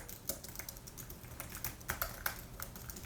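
Fingers typing on a new Apple Magic Keyboard, a quick run of soft, muted key taps close up, uneven in rhythm and with no voices.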